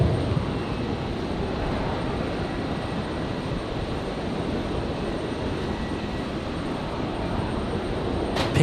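An Alliance Fokker 70 airliner passes over a hangar at Brisbane International Airport with a steady, loud engine roar that holds evenly throughout, and no voices are heard.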